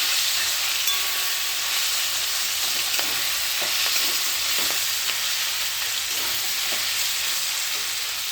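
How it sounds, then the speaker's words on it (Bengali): Onion stalks fry in a pan with a steady, close broadband sizzle, with a few faint utensil clicks scattered through it and no voices. "পেঁয়াজ কলি ভাজা হচ্ছে"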